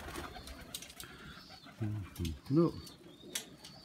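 Pigeons in a dovecote give a few soft, low coos close by amid rustling and light background noise, with someone briefly speaking.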